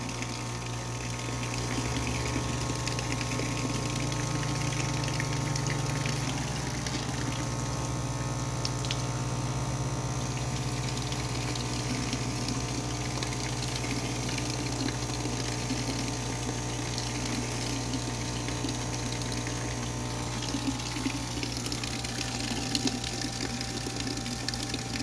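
Airlift pump lifting water into a bucket, a continuous low mechanical hum with steady bubbling, gurgling flow running throughout, fairly quiet and without voices.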